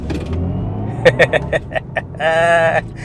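A 2023 BMW i4 M50 revs in short bursts, then builds into a sustained, rising roar near the end; a voice is heard briefly at the start.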